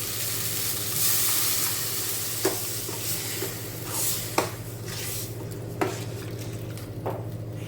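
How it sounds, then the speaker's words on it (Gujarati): A pan of onions and tomatoes frying in a little oil while soaked millet flatbread is added, giving a steady soft sizzle punctuated by several sharp scraping stirs. "અહીંયા પલાળેલો રોટલો છે એ આપણે એડ કરી દઈએ."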